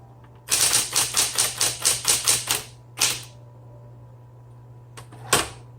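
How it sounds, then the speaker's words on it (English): Keys on a 1970s Smith Corona Electra 120 electric typewriter clack in a fast burst of about a dozen crisp strikes. A pause follows, then a single strike, then a quiet stretch with a steady motor hum, ending with a louder carriage thunk. "it is still my favorite electric typewriter"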